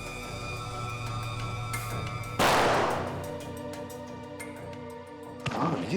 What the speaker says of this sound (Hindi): गोलियां तो लुटेरे ने अंधाधुंध चलाई है सर।